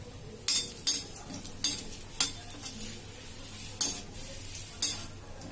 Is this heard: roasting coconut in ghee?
yes